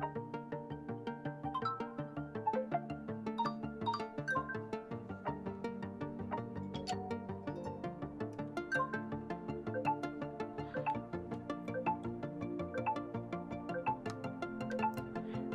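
A custom notification tone previews on a Realme C61 smartphone as a continuous, melodic electronic tune, fairly quiet and unbroken throughout, with no talking.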